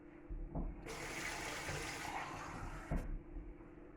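Water is poured into a container while making mulled wine cordial, a steady splashing stream lasting about two seconds between quieter knocks and handling sounds.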